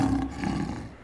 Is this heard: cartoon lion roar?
yes